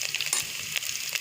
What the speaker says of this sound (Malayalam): ചൂടായ എണ്ണയിലേക്ക് കടുക് ഇട്ട് കൊടുക്കാം